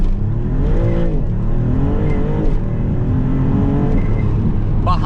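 A Maserati MC20 Cielo sports car drives along, its engine revving up and down in quick rising and falling sweeps, loud and close from inside the cabin.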